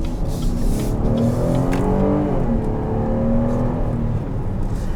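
Engine and tire hum inside a 2019 GMC Acadia Denali SUV on the road, a steady loud drone with gently rising and falling engine tones.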